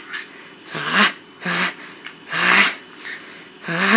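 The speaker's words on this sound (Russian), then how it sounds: "Кусачая собака." A female dog makes a series of short snorting, whimpering vocal bursts at close range, about six of them in irregular rhythm, in a quiet indoor room.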